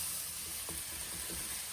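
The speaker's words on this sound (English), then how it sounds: "I love that sizzle." Steady, dense sizzling and crackling of ground beef frying in a pan, a constant hiss with faint pops, no voices.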